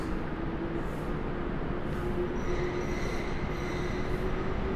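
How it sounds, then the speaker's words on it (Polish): Intercity Ślązak train pulling out of Kraków Główny station, a continuous heavy rumble of rolling wagons with a faint high wheel squeal and periodic rhythmic clatter, steady and close. "Rusza Intercity Ślązak."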